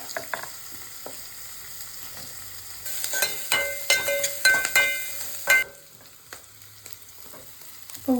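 Sliced onion frying in a pan for a tomato soup, a steady sizzle that flares louder with stirring clatter in the middle before settling back to a quieter hiss, close by with no talking.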